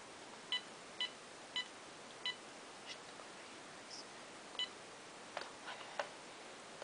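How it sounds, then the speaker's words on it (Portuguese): A mobile phone gives a series of short, faint dialing beeps spaced irregularly over several seconds against quiet room background, with no talking. "Vamos tentar ligar aqui. Dá pra ligar no celular, Júlia?"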